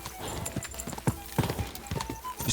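Horse hooves clip-clop in Kingdom Come: Deliverance 2, an uneven run of close, distinct hoof strikes over steady game ambience.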